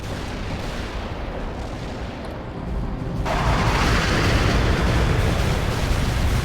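Artillery barrage in the World in Conflict video game, a dense, continuous rumble of distant blasts that grows louder and fuller about halfway through, with no speech over it.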